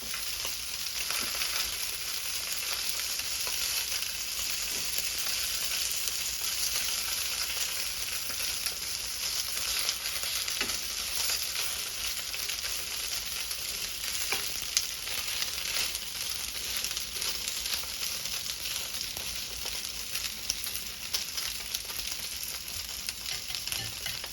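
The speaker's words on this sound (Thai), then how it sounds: "ป้าดาวอันน้ำมันบักกอกทาในหม้อเรียบร้อยแล้วเจ้า" Vegetable gyoza fry in a little oil in a pot, giving a steady, dense sizzle and crackle that runs unbroken for the whole stretch, close and fairly loud, with no voices.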